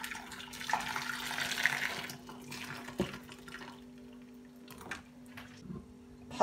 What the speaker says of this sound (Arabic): بحط فوقها مي مغلي.